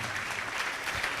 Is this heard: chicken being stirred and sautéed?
no